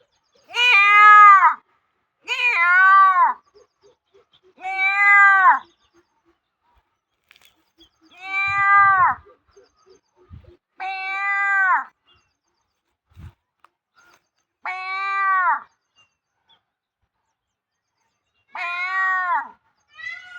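A human voice imitates a peacock's call, repeating loud, piercing wailing cries about eight times with pauses between, in quiet surroundings.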